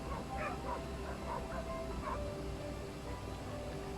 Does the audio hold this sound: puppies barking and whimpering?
yes